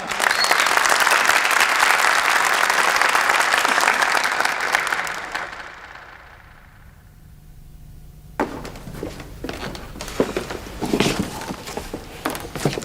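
An audience applauds a guest invited on stage at a Turkish awards event, loud dense clapping that fades out after several seconds, followed by scattered thumps and handling noises.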